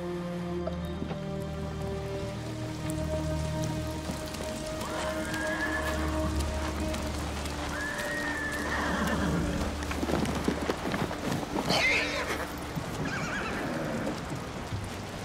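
A horse neighs and whinnies in Ghost of Tsushima, a warhorse fitted with armor, with clip-clop hooves and a light patter of rain behind it. Several whinnies come across the middle of the clip over steady game ambience, and no one speaks.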